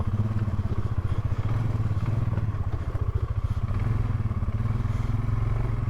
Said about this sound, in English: You hear I'm like easy on the throttle?